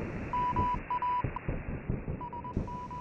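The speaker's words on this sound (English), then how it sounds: "Morse code." Morse code beeps sound in a video game as short and longer tones in irregular groups, with a quiet gap in the middle, fairly soft over a faint background.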